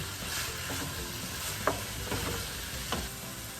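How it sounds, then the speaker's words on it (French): Ground beef browning in a pan for macaroni with meat, a quiet continuous sizzle under a broad hiss, with occasional spoon scrapes and knocks as it is stirred, no talking. "Alors là, on va mélanger tout ça. On va laisser brunir la viande."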